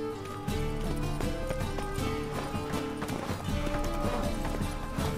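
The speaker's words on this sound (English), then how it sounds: "Run, Roach" Horse hooves gallop in rapid clip-clop rhythm in The Witcher 3 video game, with game music layered on top and no talking.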